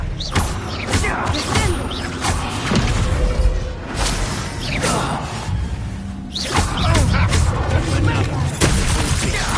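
Spells are cast in the Hogwarts Legacy video game, with loud whooshes, magical bursts and deep booming impacts layered in quick succession.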